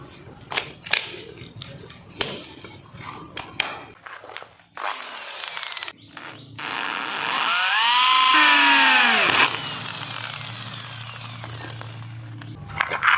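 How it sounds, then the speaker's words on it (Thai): A power drill bores a hole through a broken lawn mower handle to take a bolt during a repair. The motor whirs up, holds a loud, steady whine for a few seconds, then winds down, with scattered tool clatter around it. "เดี๋ยวเราก็จะ สว่านเจาะนะครับ เพื่อยึดน็อตนะครับตรงนี้"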